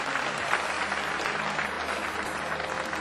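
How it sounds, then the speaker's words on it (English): A theatre audience at an international magic festival keeps up steady applause as volunteers walk to the stage, dense continuous clapping with a low hum of the room beneath it. "Keep the applause coming."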